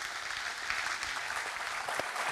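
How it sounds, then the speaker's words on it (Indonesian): Studio audience applause for the guests of a TV talk show, a dense even wash of clapping held at moderate distance for a couple of seconds, fairly faint. "bisa kita minta tepuk tangan dulu untuk semua narasumber kita pada malam hari ini"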